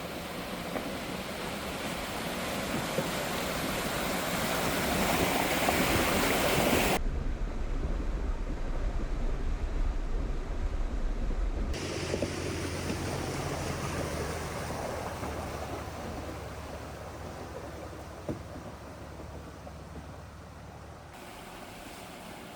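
Water rushes and washes at a rock-bottomed creek crossing on Fixer Road along the Daniel Boone Backcountry Byway in Kentucky. A steady broadband wash blends with wind noise and breaks off abruptly between segments.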